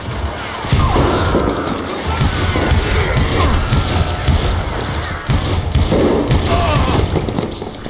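Rapid, dense gunfire from the Western shooter game Call of Juarez: Gunslinger: loud overlapping shots and crashing impacts fill the whole stretch, nearly continuous with no real pauses, alongside background game noise.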